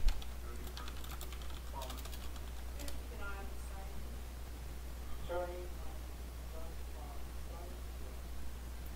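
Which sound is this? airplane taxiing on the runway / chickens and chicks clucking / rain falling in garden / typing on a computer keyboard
typing on a computer keyboard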